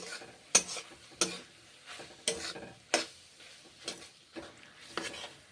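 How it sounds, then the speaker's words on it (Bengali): A spatula scrapes rhythmically through pointed gourd, beans and ginger being stir-fried in a pan, about eight distinct stirring strokes over a faint sizzle, close and clear. "এখন আদা সঙ্গে পটল বিনসের সঙ্গে কষে রান্না করছি, কষে নিচ্ছি।"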